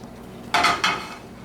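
A pan on the stove clatters twice in quick succession, a loud close metallic clank with a ringing tail, while cooking pasta in a kitchen, with no talk.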